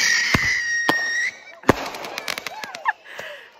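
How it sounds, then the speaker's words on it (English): Fireworks burst at a family Fourth of July gathering at a house, a string of sharp pops and crackles at moderate distance, some loud cracks standing out over a steady background hiss, with no talk. "A whole lot of fireworks going on."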